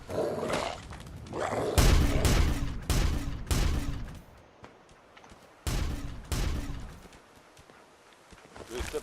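Gunfire in the video game Fallout 4 comes as several sharp, loud shots spaced a second or so apart, each with a short ringing tail, followed by quieter gaps and a few more blasts.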